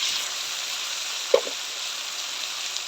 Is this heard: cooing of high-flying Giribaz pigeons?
no